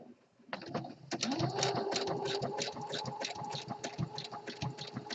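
A home sewing machine stitches an elastic waistband onto boxer briefs, starting up with a whir and then running in a fast, steady mechanical chatter close by, with no talk.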